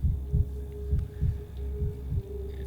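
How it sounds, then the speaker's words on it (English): Slow, steady heartbeat from a patient in the video game Pathologic 3, each beat a soft, low double thump that repeats evenly over a faint constant hum, with no talking. "His heartbeat, is that normal?"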